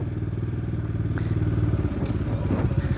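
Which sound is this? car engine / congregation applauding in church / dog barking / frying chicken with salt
car engine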